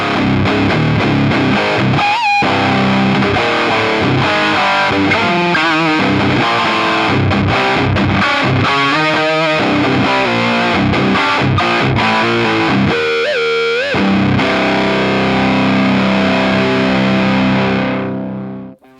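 Ibanez RGA guitar with Gatekeeper pickups played straight into a Diezel VH Micro mini amp, heavily distorted riffs with chugging palm-muted chords and sustained notes, loud and continuous, then ringing out to silence at the end.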